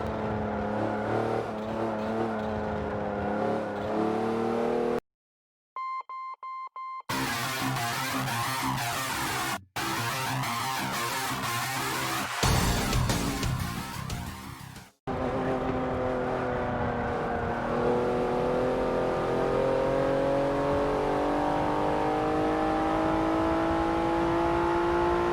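A Porsche 911 Turbo S in Forza Motorsport 7 howls around a hot lap, its engine loud and sustained as it climbs and shifts through the revs, with a brief cut-out and several sharp gear changes before it pulls hard again.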